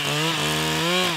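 A chainsaw cuts into a tree trunk to take wood samples, a loud, close, steady engine drone that shifts pitch slightly as the chain bites, with no talk over it.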